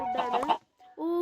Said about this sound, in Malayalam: നമ്മളെ ഫസ്റ്റ് ആനിമൽ ഇവിടെ എത്തിയിട്ടുണ്ട്. കോഴിയാണ്, കോഴി.